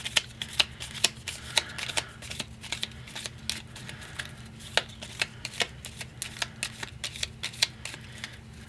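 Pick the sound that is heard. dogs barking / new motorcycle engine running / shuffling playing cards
shuffling playing cards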